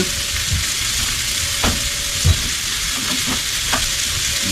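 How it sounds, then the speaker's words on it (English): Pancakes frying in a pan, a loud continuous sizzle with a few brief clacks and scrapes from a spatula turning them over. "we'll flip our last pancakes here"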